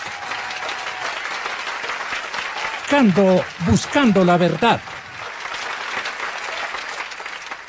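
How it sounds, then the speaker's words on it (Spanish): A studio audience on a political talk show applauds the guests, a steady wash of clapping running the whole length while a brief spoken phrase cuts through in the middle. "Aplausos para mis invitados"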